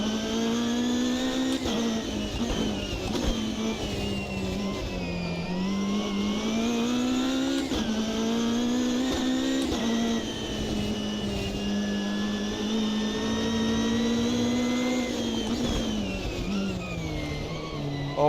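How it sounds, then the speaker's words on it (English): Race car engine in the Automobilista 2 sim during a league race, running steadily loud and close for the whole stretch, its pitch rising and falling through repeated gear changes and acceleration, with no talk over it. "at least I'm in love with sound of this car"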